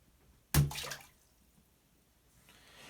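A ball drops into the water of a bathtub with one sudden, close splash that fades within half a second, then faint room noise follows.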